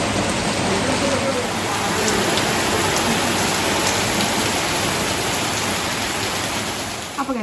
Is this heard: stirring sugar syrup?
no